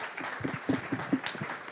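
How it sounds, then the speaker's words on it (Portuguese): Audience applause at a satellite industry congress, a steady, moderately soft patter of many hands clapping for about two seconds, with faint voices murmuring beneath. "Peço uma salva de palmas para o Fábio,"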